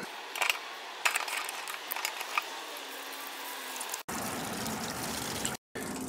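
Water drains from an RV plumbing system being winterized after the pressure release valve is lifted, a steady, moderate trickling flow with a few clinks early on, then a denser rushing hiss after a brief break.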